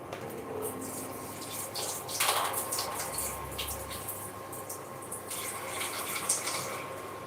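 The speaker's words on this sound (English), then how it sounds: "let me put some cold water on it" Cold water runs steadily from a tap over boiled unpeeled plantain, a continuous close splashing stream with a brief louder gush midway.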